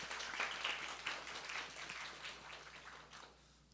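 A church congregation at a high-school youth service in Seoul applauds together, a soft, dense patter of many hands clapping at a distance that fades away toward the end.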